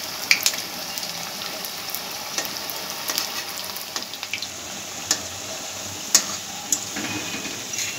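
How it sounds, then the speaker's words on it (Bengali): Mini patties made from leftover roti fry in a pan, giving a steady close sizzle with scattered crackles and pops throughout. "এগুলোকে একটু হালকা আঁচে ভাজতে হবে।"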